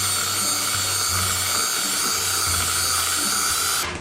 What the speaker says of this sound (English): I would say at least run it through the mixer one time